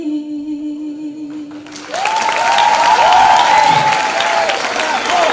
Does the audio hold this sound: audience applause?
yes